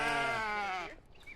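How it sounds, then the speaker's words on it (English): A single goat or lamb on a farm gives one clear, close bleat about a second long, with no other sound. "You can see the newer goats and lambs are getting kind of big."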